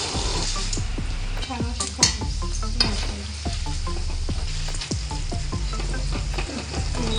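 Lentils for puffed rice chivda fry in hot oil with a steady close sizzle, broken by frequent scraping clicks of a spatula stirring against the pan.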